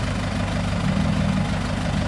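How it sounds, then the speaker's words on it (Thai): Diesel engines of a tractor and a dump truck rumble steadily at a land-filling site, a continuous low idling drone heard close and loud throughout. "วันนี้วันที่2นี่มีรถไถมาแล้วก็ รถเทดินมานะครับ"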